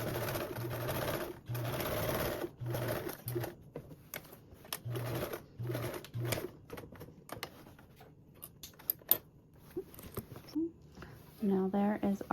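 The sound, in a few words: sewing machine stitching duffle bag binding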